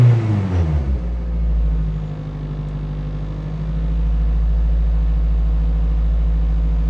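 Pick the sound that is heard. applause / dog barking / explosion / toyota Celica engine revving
toyota Celica engine revving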